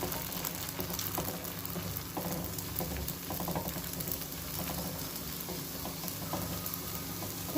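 Toor dal dosa batter sizzles on a hot griddle: a steady, dense crackle and hiss that holds at an even level throughout, close up, with no voices.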